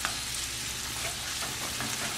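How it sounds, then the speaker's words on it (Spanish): The white part of green onion sautéing in a pan that has just held beef, a steady close sizzle and crackle of frying oil with no voices. "Voy a sofreír la parte blanca de la cebolla de verdeo"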